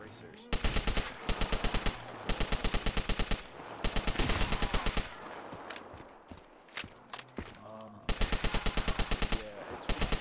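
Rapid automatic AK-47 fire from Call of Duty Black Ops III, loud and close, in repeated sharp bursts separated by short pauses, with a quieter stretch of scattered shots and rumble in the middle.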